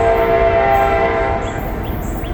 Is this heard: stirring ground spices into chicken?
no